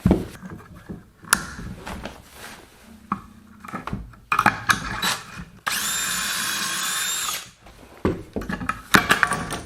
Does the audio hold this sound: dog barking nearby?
no